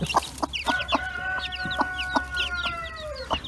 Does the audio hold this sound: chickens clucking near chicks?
yes